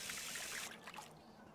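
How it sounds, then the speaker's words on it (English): Dishes being washed in The Sims 3 video game, with water running in a soft steady trickle that thins out partway through, fairly quiet and with no talk. "Wash your dishes."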